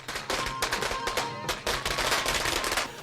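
Firecrackers go off in rapid, dense strings outside a state assembly building as a bill's passage is celebrated, loud crackling bursts running continuously without pause.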